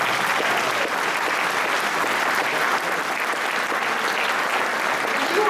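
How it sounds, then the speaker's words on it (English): Steady, dense applause from an audience at the Sacramento Darwin Day 2013 celebration, even and continuous throughout without a break. "Now you can clap."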